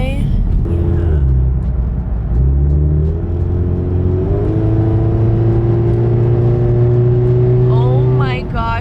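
A Scion FR-S / Subaru BRZ / Toyota 86 fitted with unequal length headers cruises on a freeway, its low engine drone steady and close throughout with a brief rise in pitch, while someone speaks over it.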